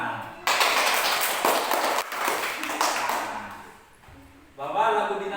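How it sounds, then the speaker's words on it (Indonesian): A class of children claps hands in a lesson, a burst of loud, scattered clapping that thins and fades, followed by a voice speaking. "Nah, tepuk tangan."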